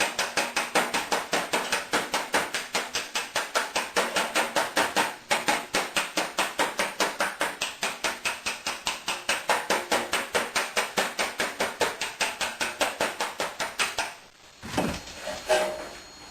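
Dented car body metal is tapped out by hand with a hammer in rapid, even, close metallic knocks that run steadily for many seconds before a short pause and a few scattered hits.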